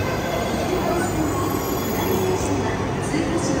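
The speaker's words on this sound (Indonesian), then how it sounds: "kereta cepat oke lihat ini kereta cepatnya" A fast train rushes past close by, a loud continuous roar of rushing air and rail noise with a faint high squeal, steady throughout.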